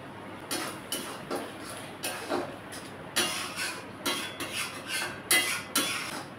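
Banana flower curry being stirred in a pan: a spatula scrapes and taps against the metal in a repeated uneven rhythm of short clattering strokes over a low steady cooking hiss, close and fairly loud.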